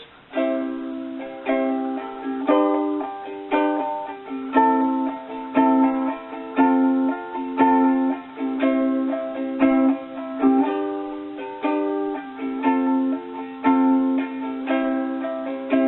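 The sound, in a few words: ukulele strumming pattern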